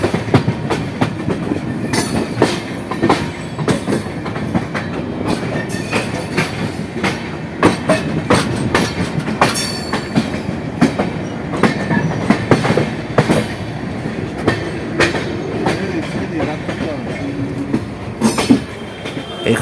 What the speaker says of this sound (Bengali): আমাদের ট্রেন লখনৌর স্টেশন, মানে লখনৌ স্টেশন বলতে ওই চারবাগ স্টেশন, গাড়ি ঢুকছে